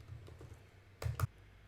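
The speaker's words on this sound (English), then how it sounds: "I'm going to type in" Keys on a computer keyboard are typed at close range, a few soft taps followed by two sharper clicks in quick succession, quiet and with no voices.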